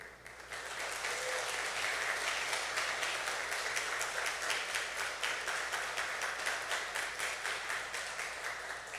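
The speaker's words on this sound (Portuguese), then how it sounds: "se você puder aplaudir os professores" A church congregation applauding the teachers, sustained and even clapping from many people that swells quickly and holds for several seconds, heard from a moderate distance with no talking over it.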